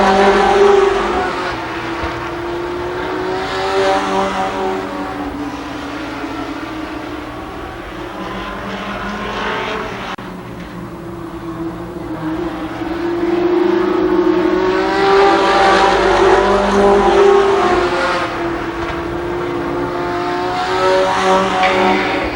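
IMCA Modified race cars thunder around Columbus Motor Speedway in a 1993 race, engines droning loudly and continuously with rising and falling pitch as the pack passes, swelling near and fading through the laps.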